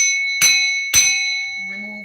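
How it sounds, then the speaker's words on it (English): A bell struck twice in close succession, each strike ringing out bright and loud with a long sustained shimmering tone that slowly fades. "Let me bang this bell, collective."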